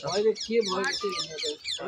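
Chickens at a zoo cluck and call in repeated short bursts, close and fairly loud, with no talking over them.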